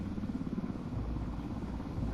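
Helicopter in Ghost Recon Wildlands, a steady low rotor thrum and engine drone holding at an even, moderate level throughout with no breaks.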